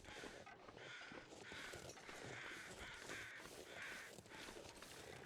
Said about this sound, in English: you can only hear the crows, which are already annoying